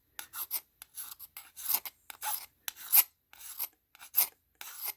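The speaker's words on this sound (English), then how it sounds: "And what I'm doing is slowly but surely taking it off. I've got a very fine file here." A very fine file rasps against the underside of a violin chin rest in short, separate strokes, close and fairly quiet, with brief pauses between passes and no voices.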